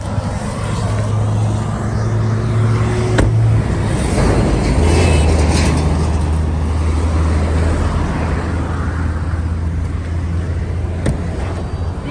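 Steady road and engine noise from a 2021 Jeep Compass driving along a highway, a continuous low hum with tire rumble and a slight shift in engine tone midway.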